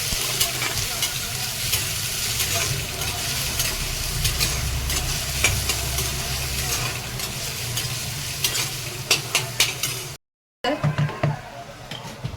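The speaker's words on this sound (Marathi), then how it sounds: "मोठे कांदे दोन मोठे टमाटर असं सगळं घेतलेलं आहे प्रमाण आणि हे बघा परतून द्यायचं" Onions and tomatoes sauté in a pan, a loud continuous sizzle with scraping stirs and several sharp utensil clicks near the end, broken by a brief silent gap.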